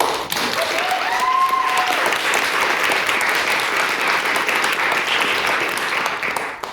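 A debating society audience breaks into sustained applause for its external convener, a loud, even roar of many hands clapping throughout with a faint whistle-like tone early on.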